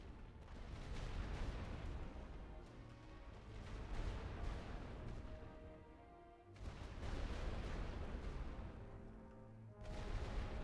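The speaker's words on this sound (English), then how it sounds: "Load for rolling barrage." A rolling artillery barrage in The Great War: Western Front rumbles as dense, continuous low booms and blasts, easing briefly before surging again, with no talk.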